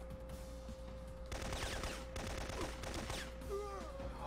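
Machine gun fire in the Syphon Filter video game on hard mode, dense rapid bursts of gunshots echoing over a constant electronic tone, with brief pauses between volleys.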